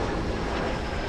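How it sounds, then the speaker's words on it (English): An Embraer E-175 airliner landing at Los Angeles International Airport produces a steady, loud, broadband jet engine roar that holds constant throughout with no speech over it. "We also have a plane landing right now. It's a small E-175 coming in from San Francisco"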